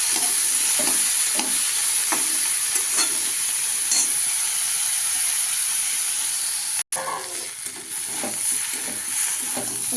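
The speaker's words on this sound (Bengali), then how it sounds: "আমার মশলা কষানো হয়ে গেল, আমি ভালো করে একটু নাড়াচাড়া করব।" Spice masala frying in a pan while it is stirred, giving a continuous close sizzle and hiss with repeated scraping strokes and a brief dropout partway through, with no voices.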